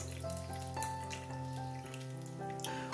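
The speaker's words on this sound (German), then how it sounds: "Dann etwas Wasser" Water trickles steadily from a container into a bowl of spelt and skyr dough for pretzel rolls, a soft, continuous pour in a quiet kitchen with no talking.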